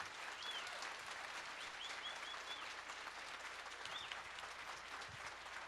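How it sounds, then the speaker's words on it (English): A seated audience applauds at a gaming roundtable event, producing dense, even clapping that carries on steadily throughout at moderate distance, with a few faint whistles over the top. "Big round of applause."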